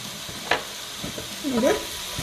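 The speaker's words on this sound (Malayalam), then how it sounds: "ഇത് നല്ലതുപോലെ ഇളക്കി കൊടുക്കാം." A spoon stirs ghee into pineapple ladoo mixture in a pan over medium heat, with a soft scrape, a few clinks and a faint sizzle, close and brief.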